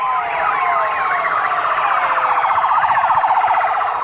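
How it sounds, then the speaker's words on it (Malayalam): Several ambulance sirens wail together as a procession brings a body to Kottarakkara, rising and falling continuously, loud and close, with no voices. "മൃതദേഹം കൊട്ടാരക്കരയിലേക്ക് കൊണ്ടുവരുമ്പോഴാണ് കൂട്ടത്തോടെ സൈറൺ മുഴക്കി ആംബുലൻസുകൾ"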